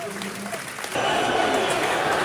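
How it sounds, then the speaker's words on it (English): Football crowd at a Millwall home match against QPR applauding a substitution, a broad wash of clapping that swells suddenly and holds loud, with murmuring fans underneath. "Good applause."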